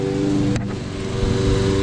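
A push lawn mower engine runs steadily through wet grass, a loud, close, droning hum with a sharp click partway through.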